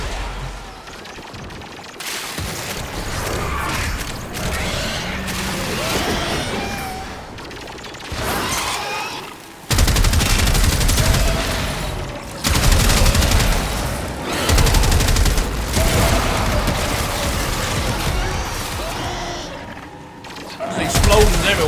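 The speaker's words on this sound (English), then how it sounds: "There's explosions everywhere." Explosions and rapid gunfire in the video game Warframe, dense and loud throughout, with bursts and mechanical clatter piling up and heavy blasts around the midpoint, mixed with other game sounds.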